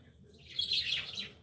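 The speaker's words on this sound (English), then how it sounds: "I like loud birds." Pet birds in a cage give a brief burst of high, faint chirping over a low background hum, with no voices.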